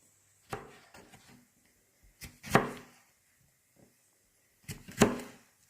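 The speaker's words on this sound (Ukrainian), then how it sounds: "Картопелька смажиться і нарізаємо овочі." A few sharp knife chops on a cutting board, irregular and close, with quiet rustling between strokes.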